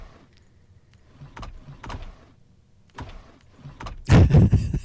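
Drawers sliding open in the horror video game Doors, heard as a few short scraping and knocking sounds spaced across the clip, ending in a louder, fuller burst of rattling movement.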